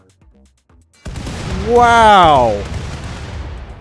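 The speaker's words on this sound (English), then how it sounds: "It's not one explosion. It's a bunch of little ones." Explosions rip through and around a ship hull in Rimworld, a sudden loud burst followed by a rumbling, rolling roar that slowly fades, with a single brief spoken exclamation over it.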